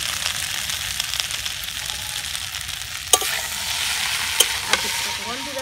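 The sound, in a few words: stirring and mixing the dish with sauces in a pan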